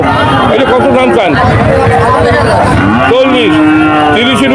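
Cattle and calves low repeatedly at a busy Shahpur cattle market, loud and close, layered over constant crowd chatter and people talking.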